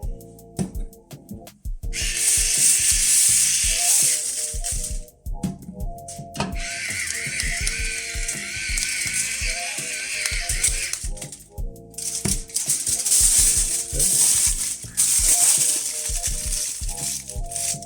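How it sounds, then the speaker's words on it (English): Aluminum foil is crinkled and wrapped around seasoned potatoes before baking, with bursts of close, sharp rustling and crumpling separated by brief pauses and softer handling noises. "Okay, so now we got some aluminum foil. We're going to wrap our potatoes."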